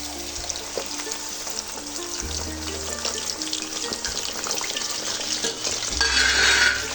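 Hibiscus, aloe vera and onion sizzle in hot oil for homemade herbal hair oil. A dense, bubbling fry runs throughout, mixed with stirring scrapes and swelling into a brighter hiss near the end.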